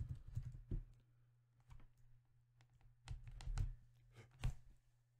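Soft, faint computer keyboard typing, a handful of quick key taps in small clusters over a low steady hum.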